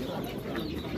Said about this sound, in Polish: To są piękne kury.